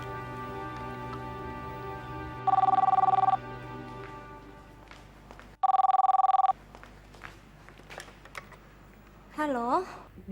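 A telephone rings in two separate bursts of a warbling electronic tone, loud and close, in an Indonesian TV drama scene, with a short voice near the end.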